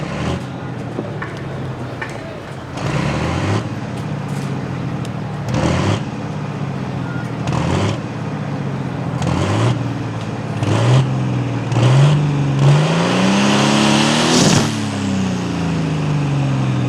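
A John Deere 6030 tractor at a tractor pull rumbles loudly and close, its engine rising in repeated surges and climbing in pitch as it revs toward the end.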